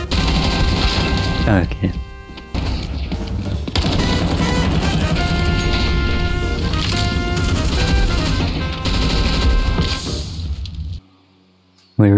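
Sustained automatic rifle fire in Counter-Strike 2, loud and near, with rattling mechanical weapon sounds over roughly ten seconds, a brief spoken word, then an abrupt drop to near silence.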